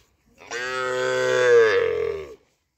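A young heifer calf gives a single drawn-out moo lasting about two seconds, loud and close, rising slightly before it fades, with silence before and after.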